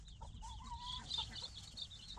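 A hen in a farmyard flock with young chicks clucks softly and repeatedly at close range, over steady background noise without any talking.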